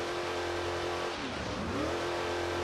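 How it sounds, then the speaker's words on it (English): A Ford Mustang engine in the BeamNG driving game hums and revs with a sustained, droning roar for the whole stretch, dipping briefly in pitch midway. The tone is steady and fairly close, with no voices. "The theater of the engine sounds, even though they're not quite right in BeamNG"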